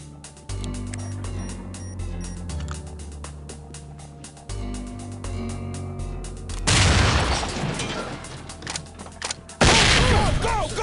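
In the tactical shooter SWAT 4, a breaching charge detonates with a loud booming blast partway through, followed by another heavy burst of gunfire, with game music and ambient sounds running underneath beforehand.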